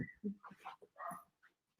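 A dog gives a string of short, close whimpers and yips, rising and breaking off in uneven bursts while being picked up and settled indoors; no talk over it.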